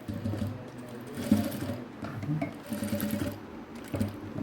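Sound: sewing machine stitching a collar

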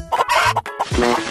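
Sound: chickens clucking in a video game

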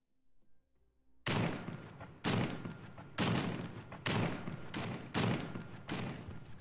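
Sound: gunfire in The Front video game

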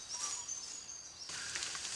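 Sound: birds singing in the background

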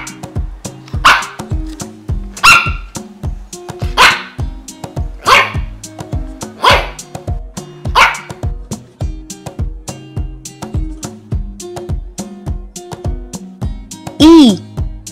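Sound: dog barking

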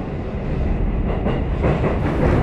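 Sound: passing train

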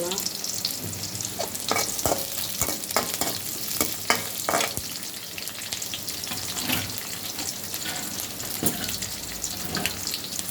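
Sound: onion and green chili frying in a pan

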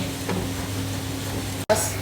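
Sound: butter melting and sizzling in a pan

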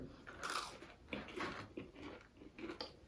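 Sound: biting into a whole chicken nugget in one bite

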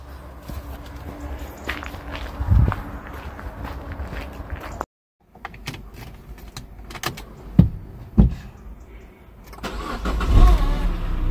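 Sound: car engine starting and idling after timing chain repair

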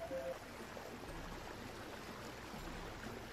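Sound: water waves around boat ride in video game

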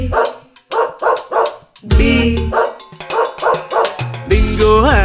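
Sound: dog barking in a Tamil nursery rhyme

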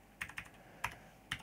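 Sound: typing on a computer keyboard

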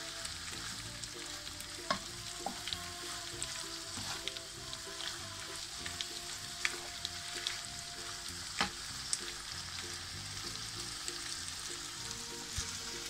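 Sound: meat sautéing in a pan with spices

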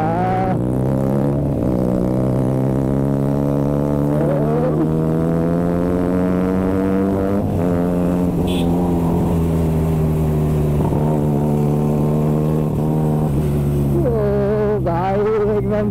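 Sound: SC Project Growler exhaust on a superbike revving

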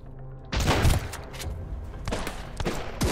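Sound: gunshots from an enemy in the video game Sunkenland

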